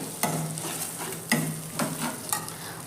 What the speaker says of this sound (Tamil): கேரட் போட்டாச்சு. நல்லா வதக்குவோம். நல்லா வதக்கிக்கோங்க.